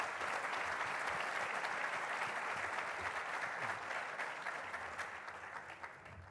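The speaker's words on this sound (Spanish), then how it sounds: "Recibámoslos con un fuerte aplauso." Warm applause from a seated audience welcoming panel guests onto the stage at a policy forum in Chile, dense steady clapping that slowly tapers off.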